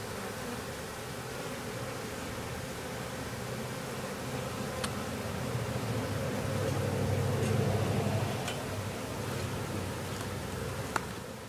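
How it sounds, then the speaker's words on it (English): Honey bees swarm thickly in the air around a hive, a steady dense buzzing drone that swells in the middle, with a few faint clicks and no talking. "There's a lot of bees in the air."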